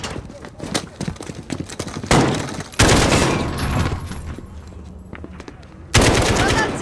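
Rapid automatic gunfire in Call of Duty Modern Warfare (2019), loud bursts and scattered single shots recurring through the scene, with sharper heavy volleys near the middle and end and voices briefly mixed in.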